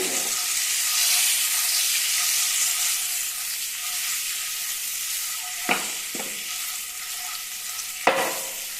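Boiled eggs stirred into masala in a pan over a low flame, a steady hissing sizzle with a few isolated sharp scrapes or taps of the spoon, close and without talk.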